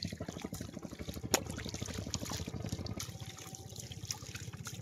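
River water splashing and trickling at a village riverbank where fishermen are catching fish, a steady close wash of liquid sound with small surges, no talk.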